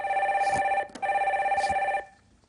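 A telephone on a radio call-in show rings twice, a steady bright electronic trill lasting about a second each time with a short gap between, loud and close with no talking over it.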